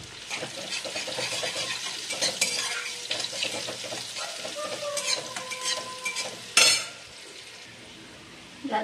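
Onion frying in oil in a wok, a busy close sizzle with stirring scrapes and light utensil clatter, broken by a sharp loud hiss burst near the end before dropping quieter.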